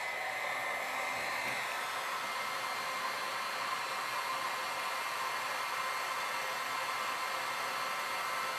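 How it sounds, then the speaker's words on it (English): A heat gun blows steady hot air to melt and fuse material, a constant broadband whoosh that runs loud and unbroken from start to finish. "Get my heat gun."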